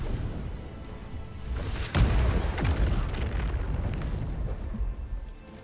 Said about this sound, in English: Those grenades are terrifying.